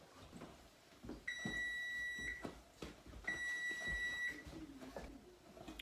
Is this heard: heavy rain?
no